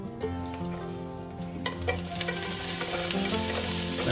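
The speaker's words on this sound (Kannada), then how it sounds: "ಆನಿಯನ್ ಫ್ರೈ ಆಗಬೇಕು." Onions frying in hot oil in a home kitchen, a steady crackling sizzle that grows louder and busier midway as stirring scrapes and pops join in.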